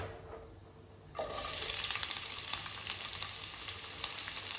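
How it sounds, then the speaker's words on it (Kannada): Cumin and mustard seeds hit hot oil and start frying for a green gram palya. After a quiet first second, a loud, steady crackling sizzle begins and continues to the end, with no talk. "ಸ್ವಲ್ಪ ಜೀರಿಗೆ ಮತ್ತು ಸಾಸಿವೆ ಹಾಕಕತ್ತೀನಿ"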